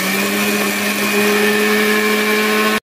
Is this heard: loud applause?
no